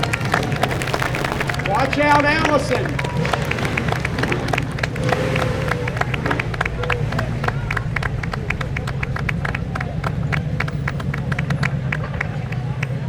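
Crowd at a George Washington Birthday parade in Alexandria, Virginia, clapping in a dense, steady patter along the street while people talk and call out nearby.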